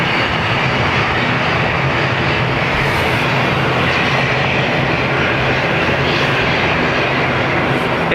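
An ATR turboprop airliner takes off from a Dublin Airport runway with a loud, continuous broadband engine roar that stays steady and close throughout.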